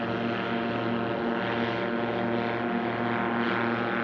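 A STOL aircraft's propeller engine drones loudly and steadily as it starts its takeoff run in a drag race, with a continuous close hum and no pauses.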